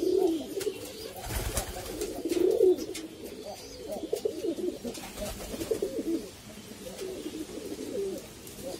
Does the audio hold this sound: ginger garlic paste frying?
no